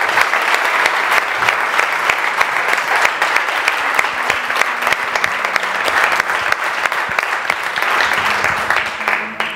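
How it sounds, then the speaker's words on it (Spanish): An audience gives dense, sustained applause, loud and continuous for nearly ten seconds, with a faint musical hum underneath. "Un aplauso, ¿no?"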